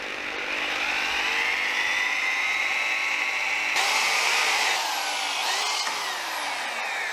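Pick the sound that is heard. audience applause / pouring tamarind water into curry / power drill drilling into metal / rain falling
power drill drilling into metal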